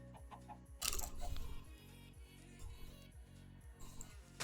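Chickens in the video game Minecraft give a few short clucks, quiet and spaced out, over low, steady in-game background sound.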